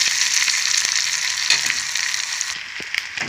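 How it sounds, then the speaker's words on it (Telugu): Ginger garlic paste with green chillies frying in a pan for potato fry, giving a steady, close sizzle with a few faint stirring clicks, no voices. "ఇది పచ్చివాసన పోయినంత వరకు కొద్దిగా ఫ్రై చేసుకున్నాను"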